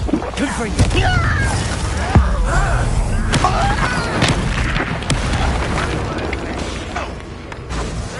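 Bombarda spell explosions in the video game Hogwarts Legacy go off through a busy combat mix, with several deep booms and bursts over constant rumble and clatter, and voices now and then.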